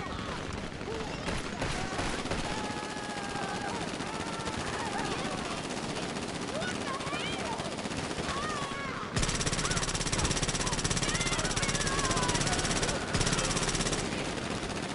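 Sustained automatic fire from special carbine Mark II rifles in a GTA Online firefight, dense overlapping bursts continuing throughout, growing louder and harsher partway through, with voices faintly mixed in.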